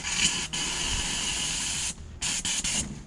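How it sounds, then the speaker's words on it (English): Steam cleaner used for mobile car detailing gives off a close, steady hiss of spraying steam, broken by a few short pauses near the end. "So now, next thing, get the steamer, but make sure you clear it out."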